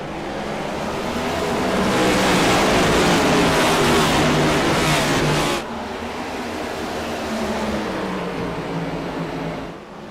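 Stock race cars roar at full throttle on the restart at Darlington, a loud, sustained engine wall that swells, drops sharply midway as the pack passes, then holds steady before fading at the end.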